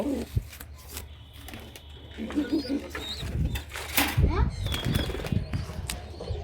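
Pigeons released from a loft burst into flight, their wings flapping in several quick, close flurries over a background of low murmuring voices.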